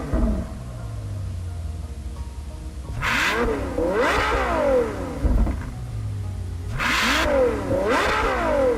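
A V12 Ferrari engine in a sim racing game revs in repeated rising-and-falling bursts, each climbing to a high, sharp wail before dropping back to a lower idle drone, loud and close with no voices.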